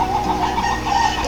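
Chickens at feeding time on a farm, a close, continuous run of clucking and murmuring calls overlapping one another without pause.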